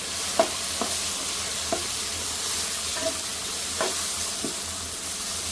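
Turmeric, chilli and coriander powder frying in a pan give a steady close hiss and sizzle, with the occasional scrape of a spoon as the spices are stirred, and no talk.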